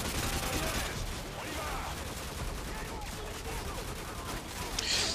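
AK-47 fire in the game Modern Warfare 2, heard as dense, rapid automatic bursts in a busy firefight, fairly distant and layered under constant battle noise.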